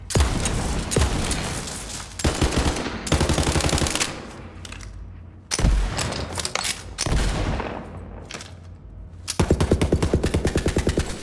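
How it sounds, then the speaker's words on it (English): Rapid automatic gunfire and shotgun blasts from the video game Borderlands 3, punchy and bass-heavy, firing in dense bursts separated by short pauses, loud and close with no talking. "The gun sounds are great, and it's just, you really hear the umph in them"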